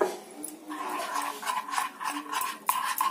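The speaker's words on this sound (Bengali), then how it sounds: "ভালো করে মিশিয়ে নিতে হবে।" Blended jackfruit seed paste stirred with water in a bowl, a close, soft scraping and sloshing repeated in uneven strokes.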